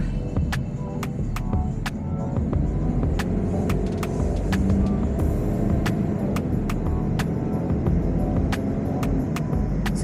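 Road traffic in Abu Dhabi heard from a cyclist riding alongside cars, a steady loud rumble and whoosh of passing vehicles with regular ticking clicks throughout.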